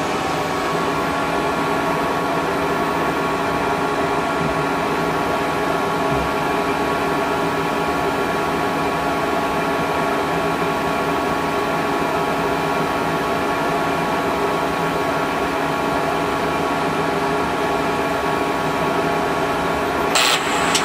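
A KSI SQC-38 CNC Swiss lathe runs two synchronized rotary live tools at 2000 RPM, producing a loud, constant mechanical hum and whine that holds steady throughout, ending with a brief sharp click.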